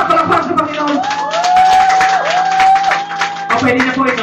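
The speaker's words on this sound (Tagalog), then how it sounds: "Palakpak, palakpak sa Panginoon!" Church congregation at a Sunday fellowship clapping and cheering, dense applause with shouts and whoops, a sustained sung or called tone rising above the crowd, and voices talking throughout.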